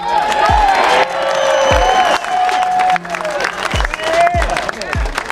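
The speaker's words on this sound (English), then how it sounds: "let's give Jeff Lutz a round of applause" Crowd at a drag racing event breaking into applause, with clapping, cheering and whoops filling the space continuously, while a voice talks over the noise.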